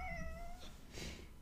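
A cat meows up close, a clear drawn-out cry followed by a short softer call, with nothing else around it.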